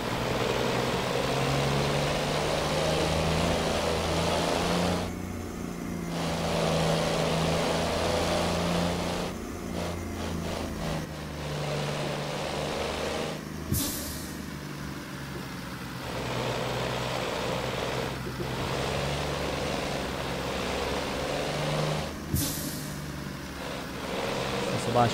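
A Mercedes-Benz Atego truck driving in Euro Truck Simulator 2 gives a steady low engine drone throughout, broken by a few sharp clicks.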